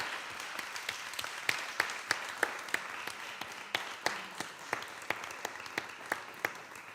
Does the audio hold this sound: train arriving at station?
no